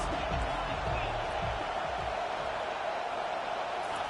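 A college football stadium crowd roars steadily behind the defense on a third down, a broad distant wash of cheering that holds throughout under a commentator's voice.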